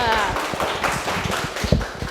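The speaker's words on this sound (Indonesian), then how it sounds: "Oke, tepuk tangan untuk kelompok 2." A classroom of students gives a student group a round of applause, the scattered, uneven claps fairly close and of modest loudness, with some voices mixed in.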